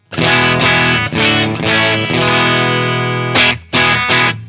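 Telecaster electric guitar strums full chords through a Mosky D250X pedal, a DOD 250 clone, used as a boost, giving a slightly thicker tone, sustained phrases broken by brief gaps, played alone.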